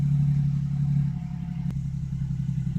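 A 2005-2009 Ford Mustang 4.0 liter V6 fitted with an Eaton M90 supercharger idles with a steady low rumble and faint whine, punctuated by a single sharp click midway.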